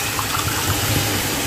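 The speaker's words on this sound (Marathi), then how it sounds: "2 ग्लास पाणी घालत आहे." Water pours steadily into a pan of masala for an egg curry, a brief close gushing splash with no break.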